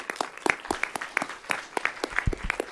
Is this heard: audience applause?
yes